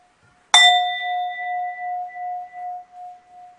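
A single gong struck once at the close of a guided breathing exercise, a sharp metallic attack followed by a long, clear, slowly pulsing ring that fades gradually over several seconds, heard alone in a quiet room.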